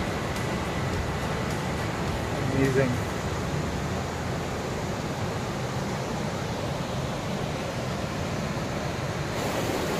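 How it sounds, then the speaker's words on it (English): Steady broadband roar of a thundering waterfall on the Kheerganga trek, a constant dense wash of falling water filling the whole clip, with a brief spoken word from someone nearby. "Hope you can hear the thundering"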